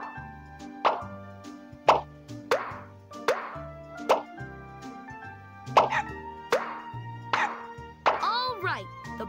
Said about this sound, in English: Now tap all the bubbles to pop them.